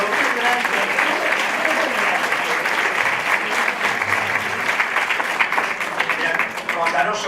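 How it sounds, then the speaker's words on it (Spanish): Loud, sustained audience applause fills a conference hall at the 6th Barcelona Tarot Congress, a dense, steady wash of many hands clapping with no break for the full stretch. "le damos un fuertísimo aplauso"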